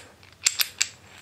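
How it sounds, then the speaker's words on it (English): A SkyWatcher Star Adventurer mount is screwed onto a 3/8 inch thread on a ball head. It gives three sharp, close clicks in about a second over a quiet background. "here is a 3/8 thread, and it screws in"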